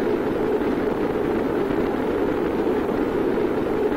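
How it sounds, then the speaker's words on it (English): A steady, unbroken roar from a rocket engine firing in Kerbal Space Program, dense and even in loudness throughout with no change in pitch, heard alone. "I'm going to gun the engine until it's gone."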